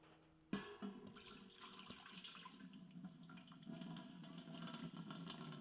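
Stagnant mud-hole water from a homestead pours into a DIY water filter, a steady splashing trickle that starts abruptly and runs on, growing slightly fuller toward the end.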